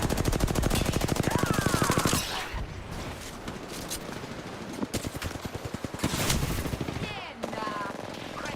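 Rapid automatic gunfire in the Apex Legends video game, dense bursts of shots hammering in fast rhythm with brief gaps, loud and close throughout, with faint game voice effects mixed in.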